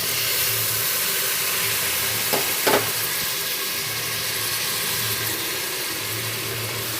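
Onions and masala fry in a pan for mutton biryani with a steady, loud sizzle and hiss that continues throughout, with a brief clatter of stirring near the middle.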